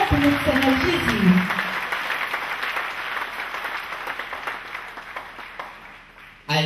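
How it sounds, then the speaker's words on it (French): A church congregation claps and cheers for Jesus Christ during a sermon. Dense, sustained applause fills the space with a voice briefly audible at the start, then the clapping thins toward the end before a sudden loud burst. "Clap for Lord Jesus Christ."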